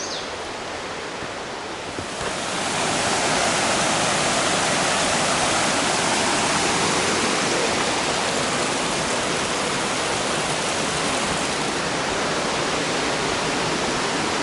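A big river rushes beneath a log bridge crossing on the Ramsey Cascade Trail. The roar is loud and continuous, swelling up after the first two seconds and then holding steady with no voices.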